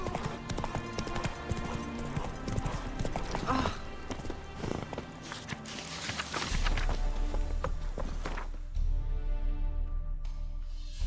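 Roach, a horse in the video game Witcher 3, walks with steady, close clip-clopping hooves over continuous game ambience, with a short spoken line partway through.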